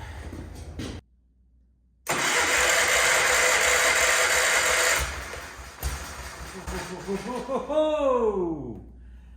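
A Wheel Horse C-120 garden tractor engine cranks briefly, falls silent, then fires and runs loud and steady before dropping back to a lumpy idle with rising and falling revs.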